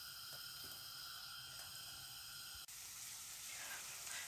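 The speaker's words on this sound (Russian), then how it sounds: "Жарятся оладушки." Kefir pancakes fry in a pan with a steady, close sizzling hiss that brightens and grows slightly fuller partway through, with no talking.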